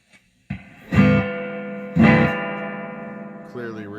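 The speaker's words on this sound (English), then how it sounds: "So let's go with the reverb here." Electric guitar chords strummed twice through an Electra EP-250 analog delay with a replaced spring reverb tank, each ringing out in a long, washy spring reverb tail, followed by a brief bent note.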